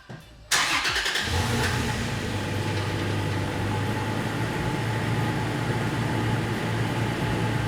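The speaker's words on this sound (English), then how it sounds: "Let me turn the car on." Toyota Tacoma pickup engine starting: a short crank bursts into a loud catch, then settles into a steady, close idle that continues alone.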